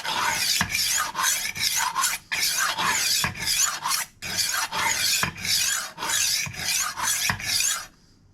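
A knife blade rasping across a rolling knife sharpener in a series of quick, regular scraping strokes, about a dozen swipes with short gaps between them, close and loud.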